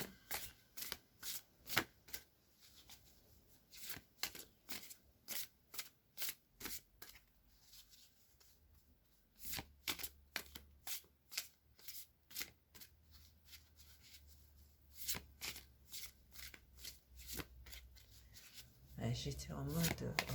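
Tarot cards are shuffled by hand in repeated quick riffling bursts, near and fairly quiet, with short pauses between rounds and soft handling noise.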